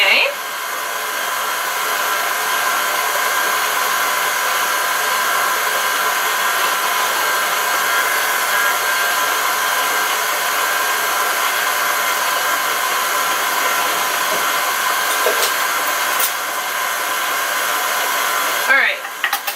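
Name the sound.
electric mixer beating almond avocado flax seed bread batter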